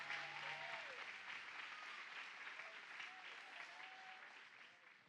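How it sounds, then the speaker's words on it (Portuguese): A church congregation applauds throughout, a dense and sustained clapping that fades a little toward the end, with voices faintly under it. "Se quer aplaudir, aplauda para Jesus"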